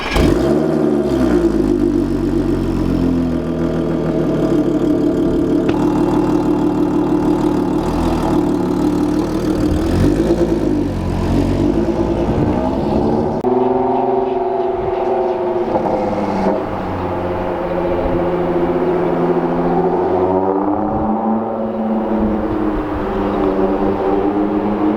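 A car engine with an ECS valved exhaust, valves open, idles and revs in a deep, loud, rumbling drone, swelling and dipping several times with no talk.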